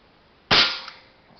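A single sharp, loud shot from an Evanix AR6 shrouded air rifle fired single action cracks out of near silence and trails off into a short decaying ring.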